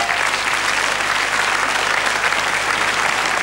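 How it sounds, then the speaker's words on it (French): Studio audience on a French TV quiz show applauding, a loud, dense and unbroken roar of clapping from a large crowd that fills the whole stretch evenly. "On peut aussi les applaudir, les petits loups,"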